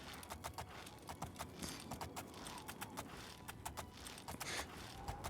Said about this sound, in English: Onwards, extremely slow paint horse.